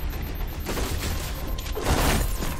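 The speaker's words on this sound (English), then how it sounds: "Throwing a grenade for." In Halo 4, a thrown grenade bursts amid ongoing combat, with a loud low boom swelling near the end over continuous gunfire and battle noise.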